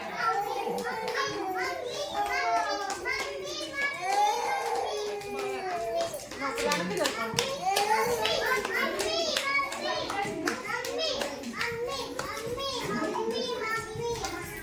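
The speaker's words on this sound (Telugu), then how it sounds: "క్లాప్స్ కొట్టండి" A group of young children claps along during a game at an anganwadi preschool, the claps mixed into constant lively children's chatter and voices throughout.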